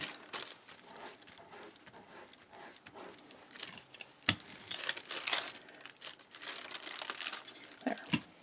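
Tissue paper is pressed and rubbed down onto a doily surface in a journal, giving continuous soft crinkling and rustling with occasional sharper crackles, close up and without talk.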